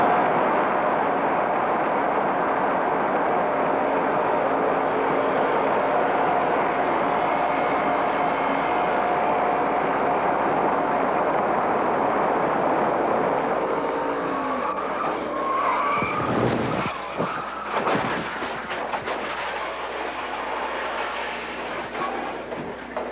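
Neil Bonnett's NASCAR stock car crashes at Talladega in 1993, flipping upside down into the retaining fence, a sustained loud roar of scraping and engine noise giving way to sharp crunching impacts.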